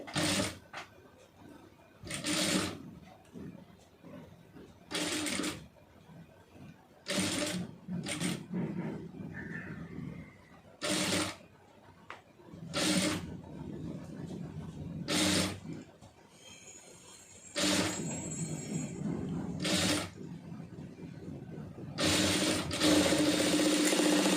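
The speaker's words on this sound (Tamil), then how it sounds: "கரெக்டாக பார்த்து நிதானமாக தைச்சிக்கிறோங்க" A domestic sewing machine stitches pleated puff sleeves on fabric, its mechanical whirring running in repeated short bursts with pauses between, fairly close and moderately loud, with no talk over it.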